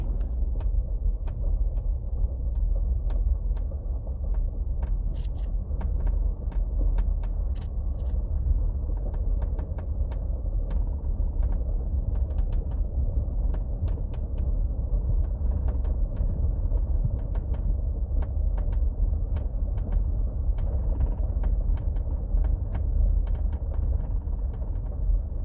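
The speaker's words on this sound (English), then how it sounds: "But I've got this weird noise. It's like a popping, squeaking, rattling." Inside a moving Jeep Gladiator, steady low road rumble carries frequent sharp ticks, pops and creaks. The rattling clicks scatter irregularly through the cabin, and no one speaks.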